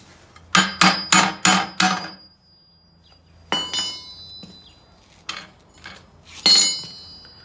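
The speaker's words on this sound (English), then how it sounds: "Hammering it down was a good thing to do." Ringing metallic hammer strikes while making a short shifter: five quick blows in a row, a pause, then several more spaced hits with short metallic resonance.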